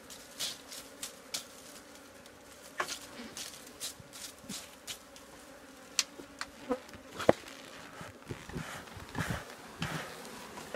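Honey bees and many drones buzzing at an open hive during a honey harvest, a steady close hum with sharper buzzes as individual insects fly past the microphone.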